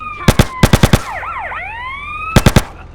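Police car siren in GTA San Andreas, its wailing sweeping tones rising and falling loudly, broken by bursts of rapid gunfire at the start and again near the end.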